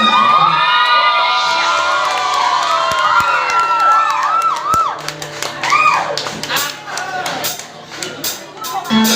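A concert crowd clapping and cheering at a Thai music show, loud and dense, with high shouts and whistles over sharp claps that turn into a rhythmic beat toward the end.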